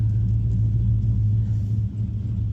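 A dense stream of cars drives past, making a steady, heavy low rumble that holds throughout with only slight dips and no single vehicle standing out.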